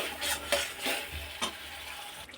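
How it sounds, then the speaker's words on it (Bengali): Salt is stirred into a paneer curry simmering in a pan, with several quick scraping spoon strokes over a soft, continuous sizzle, close up, and no voices. "নুনটাকে আর একটুখানি এর সাথে নেড়ে ছেড়ে নেব।"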